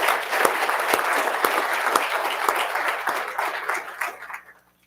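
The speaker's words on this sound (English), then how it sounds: "we're going to do another round of applause" Loud applause from a crowd at a government awards ceremony, many hands clapping together with sharp individual claps standing out before the ovation tapers off and fades to silence.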